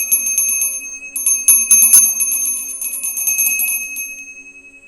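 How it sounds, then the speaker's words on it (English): A bell rung to clear the energy in a room chimes brightly and loudly, with rapid repeated strikes that ring on and then slowly fade, heard alone without any voices. "I'm going to ring this bell just to clear the energy."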